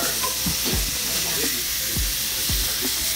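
Steak searing in butter in a pan with onions to follow, a constant close hiss of sizzling fat with a few low thumps and scrapes as the meat shifts.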